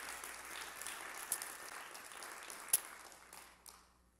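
Church congregation applauding during a live broadcast service in Sacramento, a steady wash of moderate clapping with a couple of sharper accents, fading out toward the end.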